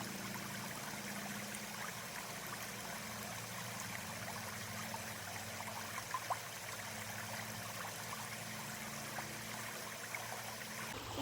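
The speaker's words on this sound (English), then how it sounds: "I have the Catadine B3, so it's push through water filter" Water flows steadily from a Katadyn BeFree push-through filter into a bottle outdoors, a soft continuous trickle and stream at low volume with no talking.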